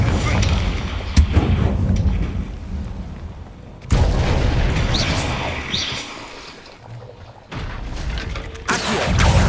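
Confringo explosive spell blasts in Hogwarts Legacy, several loud booming bursts with sharp onsets separated by a few seconds, each trailing off into rumble.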